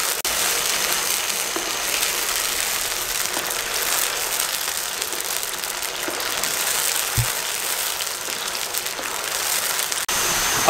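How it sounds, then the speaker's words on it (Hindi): Taro root (arvi) frying in hot oil in a dhaba-style kitchen, a steady loud dense sizzle and crackle holding evenly throughout with no voices over it. "ऑयल गर्म हो चुका है, अरवियाँ इसमें फ्राई करने लगे हैं।"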